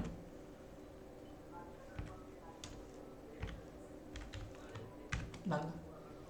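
Keys being tapped on a computer keyboard while HTML code is written, scattered light clicks at an uneven pace, faint and close, with a little soft background noise.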